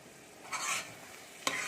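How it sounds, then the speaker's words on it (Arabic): Close, soft scraping of a spoon stirring a caramelizing onion tfaya sauce for couscous in a pot, with a faint sizzle and a sharp clink near the end. "غنبقاو نحركو ما نتوقفوش حتى تشرب لينا ديك التفايه مزيان"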